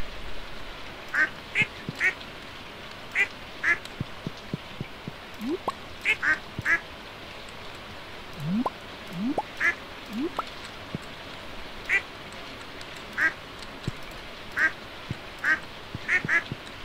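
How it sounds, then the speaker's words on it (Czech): Repeated duck quacks from the farming video game Stardew Valley, short bright calls recurring every second or two over a steady patter of in-game rain, with a few soft low effects between them. "Tak další kachnička."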